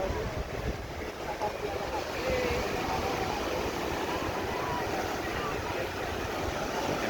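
Ocean waves roll onto a beach where fishing boats are being launched in rough surf, a continuous loud wash of surf with heavy wind noise buffeting the microphone; a few voices are faintly mixed in.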